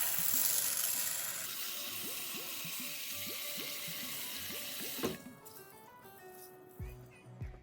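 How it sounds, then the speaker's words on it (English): Hot water runs from a tap over a cup of large mung beans in a bowl, a faint steady stream with small gurgles and drips that stops near the end, leaving light clinks. "I'm going to soak them in hot water."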